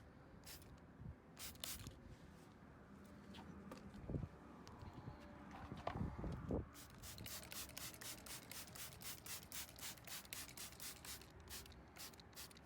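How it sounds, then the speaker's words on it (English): A stiff bristle brush scrubs rubber all-weather car floor mats coated with tire and rubber rejuvenator, a steady close scratchy rasp that turns into a rapid, even back-and-forth rhythm. "take a stiff bristle brush like you see here and use it to agitate the product"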